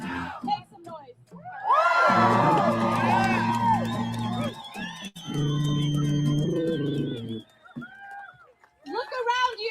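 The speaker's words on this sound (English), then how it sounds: "It's a big ass crowd. Make some noise." A large crowd at an anti-war protest rally cheers and whoops loudly in rising bursts, with shouting voices close by and brief quieter gaps between the swells of noise.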